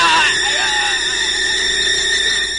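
Loud, drawn-out cry of pain from a bandit in an Indonesian audio drama, a high strained wail near the mic with an overlaid tonal drone, no words spoken.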